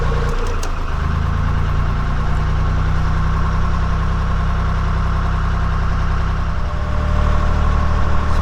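Narrowboat diesel engine on a canal working hard in reverse gear with a worn gearbox, a steady loud low rumble that picks up briefly near the start and again toward the end, with no talk.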